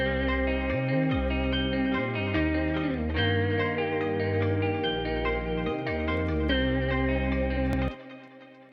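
A thick synth pad built from two detuned saw waves, one in 16-voice unison, run through a filter, distortion and compression, sustains dense sliding chords with reverb, then cuts off near the end leaving a faint tail.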